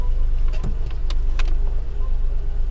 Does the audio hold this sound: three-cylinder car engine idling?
yes